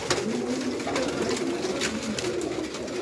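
Rampuri pigeons on a rooftop give repeated low, throaty coos in a soft rhythmic series, close and clear over faint background noise, without speech.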